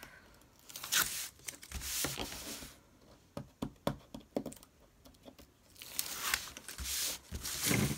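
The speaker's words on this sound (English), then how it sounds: "let's take the tape off" Tape peeled off a handmade junk journal cover in short tearing bursts, close and crackly, with separate quick rips and pauses between pulls.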